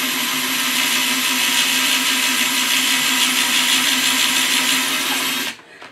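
A power drill whines steadily and loudly as its bit grinds into an oyster shell, a continuous high buzz that cuts off abruptly near the end.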